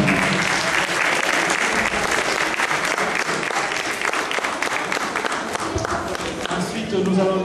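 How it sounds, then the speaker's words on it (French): A school audience claps loudly and steadily at the Prix François Fabié 2013 award ceremony, with cheers and voices faintly mixed into the sustained ovation. "Voilà, on les applaudit"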